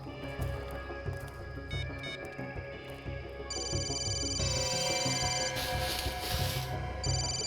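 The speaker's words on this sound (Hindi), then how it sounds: "दया, जरा फोन लगा के देखो।" A mobile phone rings after being called, giving a steady electronic ringtone of repeating bright tones, with the melody shifting partway through over a busy background.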